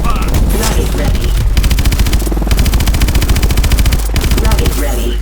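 In the video game Call of Duty: Advanced Warfare, loud rapid gunfire cracks out in dense automatic bursts with heavy, booming low end that stops and starts several times.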